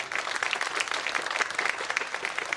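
Audience applause for Dr. Amy Smith at a land-grant institution event, a short burst of dense, steady clapping from a crowd, fairly close and without talk.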